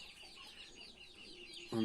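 Pigeons, a newly acquired group including Dragoon, German and young pouter birds, coo and murmur softly and steadily at close range, with a louder, fuller call rising at the very end.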